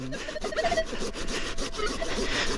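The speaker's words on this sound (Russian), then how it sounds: "Слушай, пила офигенная." A hand saw rasps steadily through tree roots in a dig pit, with rough repeated strokes that stay close and fairly loud throughout, and no talking over them.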